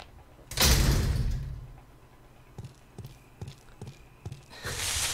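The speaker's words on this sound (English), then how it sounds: "Going through the door." Game door from Resident Evil HD, one loud, near creaking swing followed by a string of sharp clunks and thuds as it closes and latches, then a rising noise swell at the end.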